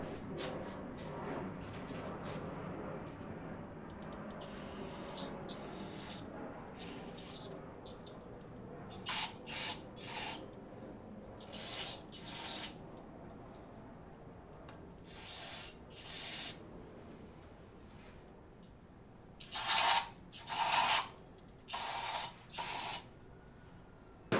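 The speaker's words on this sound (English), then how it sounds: "after you just sprayed a bunch of brake clean down the carburetor" Brake cleaner sprayed down a car carburetor in bursts, with a few short hisses early on and then a tighter cluster of four or five sharp, close sprays near the end, over low background rumble.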